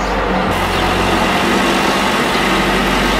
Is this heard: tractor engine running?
yes